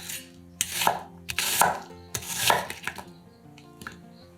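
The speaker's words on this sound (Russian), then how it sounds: "Одну луковицу нарезаем произвольными кусками." A knife chops an onion into rough chunks on a board, several crisp separate cuts in an uneven rhythm, close and clear over quiet background music.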